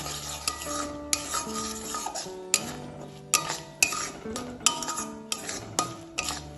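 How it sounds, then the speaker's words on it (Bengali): Cashew and poppy seed paste stir-fried in oil in a pan, a spatula scraping and knocking against the metal in repeated strokes about every half second, over a soft sizzle, close and clear with no talking. "ভালোভাবে কাজু পোস্তটাও কষিয়ে নেব, যেন কাঁচা ভাব না থাকে"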